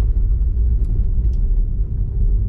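A Tesla Model 3 SR+ with rear-wheel drive cruises along a snowy mountain road, giving a steady, loud low rumble of tyres and road noise with a couple of faint higher ticks, no voices.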